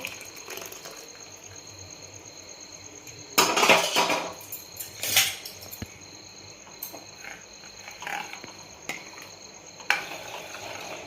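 A spoon scrapes and clinks against a pot while vermicelli and milk are stirred together for sheer khurma, a few louder bursts of metal clatter rising over a faint, steady insect chirr in the background.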